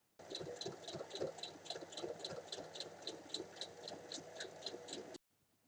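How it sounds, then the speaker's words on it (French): A sewing machine stitching fabric for a bag: rapid, even mechanical ticking with a low motor hum underneath, close and steady for about five seconds before stopping abruptly. "je vais venir faire une piqûre à 3 mm du bord sur toute la longueur"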